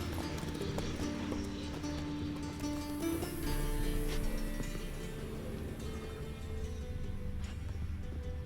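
Horse hooves clip-clopping in the video game The Witcher 3, a steady rhythmic patter of hoofbeats under game music and ambience, moderately close but fairly quiet.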